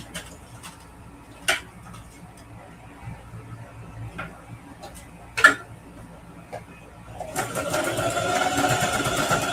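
A sewing machine runs a stay stitch on a fabric travel shoe bag, its faint ticking joined by a few sharp taps before a steady, louder whirring run of stitching near the end.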